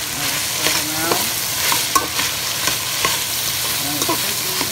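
Onions sizzle steadily in a hot frying pan while a utensil scrapes and stirs them in repeated short strokes, close up with no talking.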